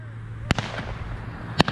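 Two sharp shotgun blasts ring out about a second apart during an outdoor dove hunt in Kentucky. Each report is loud and close, with a short echo behind it.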